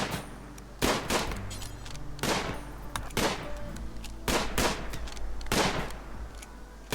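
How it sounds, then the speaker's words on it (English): Gunfire in a RimWorld shootout: about seven sharp shots crack out in an uneven rhythm, some spaced apart and some close together, over a steady low hum. "we're doing okay on the old shootout"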